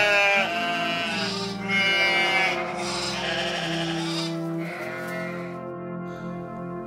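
Flock of sheep on a hillside in a Christmas nativity setting, several loud, sustained wavering bleats overlapping one another with almost no pause, the calls filling the whole stretch and tailing off at the end.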